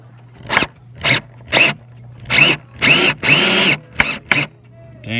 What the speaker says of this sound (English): We got this sorry little drill bit.